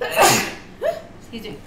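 A single loud, close sneeze bursts out at the start, followed by a brief spoken apology.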